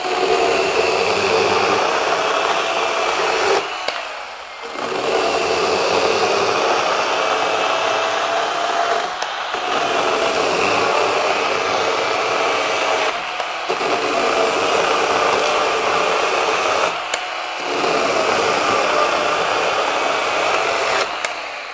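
A RYOBI 18V brushless 8-inch pruning saw cuts through a 4x4 timber, giving a steady, loud, high-pitched motor whine that runs for several seconds at a time. Brief dips in the sound mark pauses between cuts, and no one speaks.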